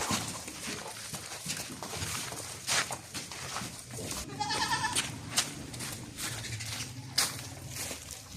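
Goats of the Makhi Cheeni breed, a small farm herd of does, kids and bucks in Pakistan, bleat several times at close range over a steady rustling farmyard background.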